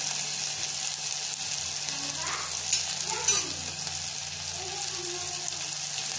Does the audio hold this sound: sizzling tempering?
yes